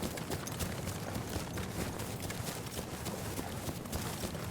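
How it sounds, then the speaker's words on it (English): Footsteps of a soldier character moving with the Slink specialization in the Battlefield 1 video game, a steady run of soft, muffled thuds under a dense wash of battlefield noise, continuous and fairly quiet. "now here's a demo of how your footsteps sound with Slink"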